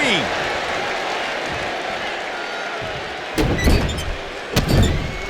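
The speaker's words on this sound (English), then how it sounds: "Just stomping away." Two heavy thuds from a wrestler stomping on a downed opponent in the WWE 2K25 wrestling game, landing near the end over a steady arena crowd roar with commentary running beneath.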